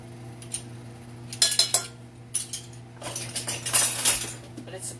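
A spoon stirs flour into melted butter in a pot, giving irregular bursts of metallic clinks and scrapes against the pan, louder in the second half, with a steady low hum underneath.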